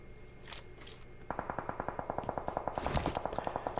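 Rapid bursts of automatic gunfire from PUBG Mobile, a quick rhythmic stream of sharp shots following a few scattered earlier sounds.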